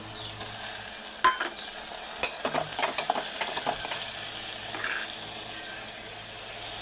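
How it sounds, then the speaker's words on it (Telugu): Onions and tomato pieces frying in a pan for Andhra-style horse gram ulava kattu, with a steady sizzle and a brief cluster of scraping stirs and clinks near the middle; close, with no talking. "ఇదిగోండి ఉల్లిపాయలు వేగిపోయాయి ఇందులో టమాటా ముక్కలు వేసేద్దాం"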